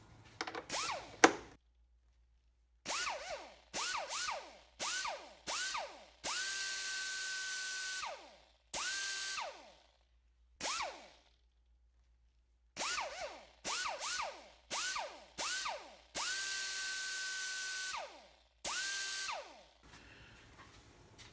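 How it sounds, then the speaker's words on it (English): A 10mm wrench or power tool working the nuts off the cylinder head cover of a 2006 Scion xA, heard as repeated close whirring bursts separated by short pauses. "to remove the plastic cover, covering the cylinder head, we're going to use the 10mm wrench"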